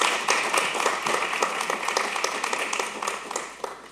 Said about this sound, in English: Can we get a round of applause again for these kids?